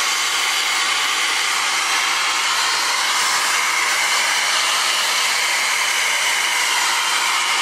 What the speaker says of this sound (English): I'm just blow drying.